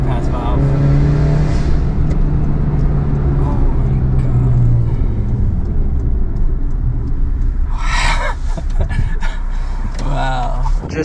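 Suzuki Wagon R car engine revving up and settling back nearby, a loud throaty rumble with rising and falling pitch, with people talking over it.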